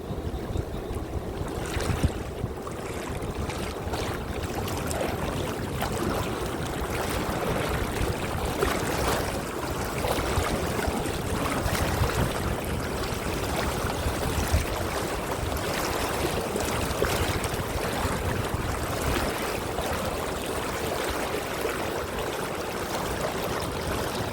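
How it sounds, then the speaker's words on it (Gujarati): Steady rushing water from a dam fills the whole stretch, a continuous broadband roar of flow with a breezy, outdoor feel and no voices. "આ બાજુ ડેમ નું પાણી જાય છે"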